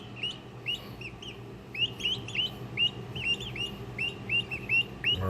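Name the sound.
baby Orlopp Bronze turkey poults chirping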